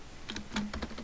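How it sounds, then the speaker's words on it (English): Someone types on a computer keyboard with a quick, uneven run of close, light key clicks in small bursts. "here's a chance for you to see my excellent typing"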